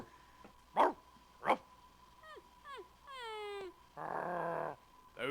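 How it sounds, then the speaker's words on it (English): Two sharp dog barks, then whining, yelping cries and a rough sustained snarl-like sound, fairly close and distinct over a faint hum. "Those were the precious sounds of your dog Spot being captured"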